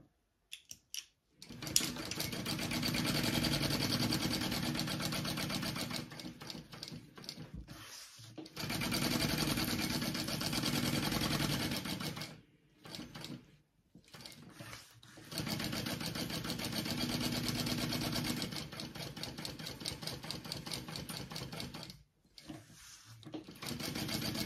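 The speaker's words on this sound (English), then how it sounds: "you're just going to baste those two pieces, just like we did with our back panel" Sewing machine basting two fabric pieces together, running in long steady motor-driven stitching bursts with brief pauses between, close and fairly loud, no talking.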